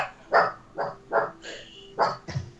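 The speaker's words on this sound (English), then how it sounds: "It's barking." A dog barks five or six times in a loose rhythm, each bark loud and near with a slight echo, over a low steady hum.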